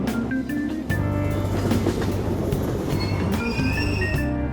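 A subway train sits at a station platform in the video game Persona 5, with a rumbling, humming carriage, faint wheel squeal and light clicks, steady and close with no talk.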